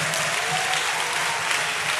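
A church congregation at an evangelisation school gathering in Abidjan claps loudly and continuously, a dense wash of applause filling the hall.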